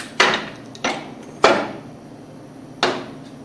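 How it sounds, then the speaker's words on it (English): A centrifugal pump assembly is pressed into its housing with a one-inch pipe, giving four sharp knocks at irregular intervals, each with a short fading ring. "Use your 1-inch piece of pipe. And press the assembly in until you feel it bottom out."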